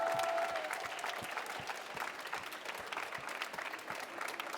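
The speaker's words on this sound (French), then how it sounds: "On peut applaudir, s'il vous plaît, une toute dernière fois nos 4" Audience applause for four women champions at a regional seniors' trophy final, continuous brisk clapping from the crowd, even in level from start to finish.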